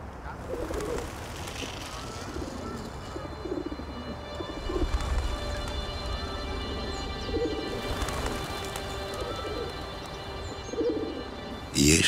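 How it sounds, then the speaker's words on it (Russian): Pigeons coo and chirp while being fed, soft repeated calls heard close by over a busy outdoor background with occasional faint voices. "Ешьте, птицы мои небесные."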